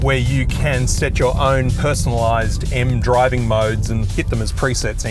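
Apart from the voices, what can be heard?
No everyday noise stands out behind the speech.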